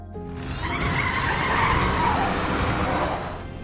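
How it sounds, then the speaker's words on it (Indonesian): A car speeds away in a film scene with a sustained rising engine roar and squealing, skidding tires, loud and continuous before fading slightly at the end. "Lalu ia kabur bersama Sylvia menggunakan mobil milik Raymond."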